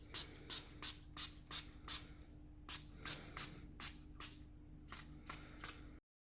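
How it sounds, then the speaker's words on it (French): A small spray bottle mists Brusho pigment in a run of about fourteen short, crisp hissing puffs, close and fairly quiet, with a faint steady hum underneath and no talk. "un petit spray comme ça."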